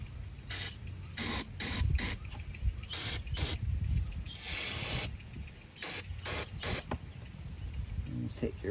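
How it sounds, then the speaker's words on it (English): Short repeated spritzes of cleaner sprayed into the fuel rail port of a 2015 Buick Verano during fuel pressure sensor work, several hissing bursts in quick succession, close and fairly loud, with a longer spray in the middle. "But we'll give it a spritz."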